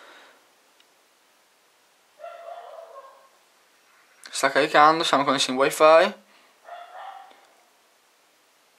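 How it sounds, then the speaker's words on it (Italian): A dog barks in a quick burst of about five loud barks at close range, with a few faint yips before and after, while someone speaks in Italian. "Scusate per il cane in sottofondo, ma oggi non so cosa abbia"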